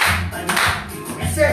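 Hands clap in a dance class, a few sharp claps in quick succession, close and fairly loud, with brief voice sounds in between.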